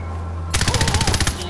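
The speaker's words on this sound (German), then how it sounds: "Ich hab grad ganzes Magazin auf dich geballert!" Sustained automatic gunfire in Far Cry 4, a rapid burst of roughly a dozen loud, close shots in a steady rhythm following a quiet hum, emptying a whole magazine.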